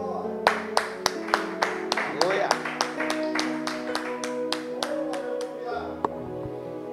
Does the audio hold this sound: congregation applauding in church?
yes